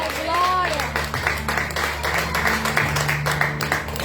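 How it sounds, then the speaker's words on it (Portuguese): A worship congregation at a church gathering in Manaus claps along in a rhythmic, sustained burst of applause, fairly close and mixed with raised voices. "Quem pode aplaudir e adorar ao Senhor?"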